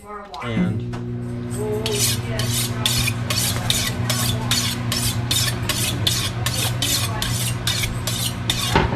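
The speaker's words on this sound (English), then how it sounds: "Use the steel to give it a quick sharpening." A steady, rhythmic scraping of a chef's knife drawn repeatedly along a honing steel, about two strokes per second, over a low background hum.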